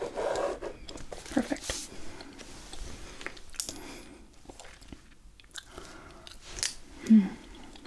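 Gum chewing up close in a whispery ASMR teacher roleplay, soft wet smacks and clicks scattered throughout, quiet and intimate, with faint talk in places.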